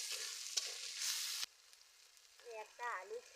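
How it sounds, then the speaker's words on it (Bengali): Chopped onions hit hot oil, with a bright hissing sizzle at the start that fades to a low crackle while a voice speaks briefly near the end. "কেটে রাখা পেঁয়াজ দিয়ে দিচ্ছি তেলের উপর।"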